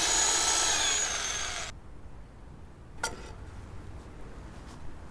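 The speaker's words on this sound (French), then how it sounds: "Effectue un pré-perçage des 2 côtés." Power drill pre-drilling holes in wooden fence timber outdoors, a loud continuous whirring burst for under two seconds that cuts off abruptly, followed by quiet room tone and a single short knock.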